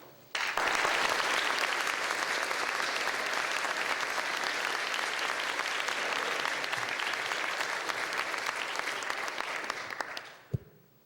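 An auditorium crowd claps in sustained, even applause to welcome speaker Eric Rothschild, the dense clapping beginning abruptly and holding for roughly ten seconds before tapering off, with a faint bump near the close.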